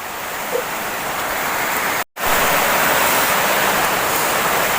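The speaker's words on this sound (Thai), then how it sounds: "ฝนตกฝนตก แม่แก่เอ้ยรักทีนี้" Heavy rain pours down in a steady, dense hiss, broken once by a brief moment of silence before the downpour resumes.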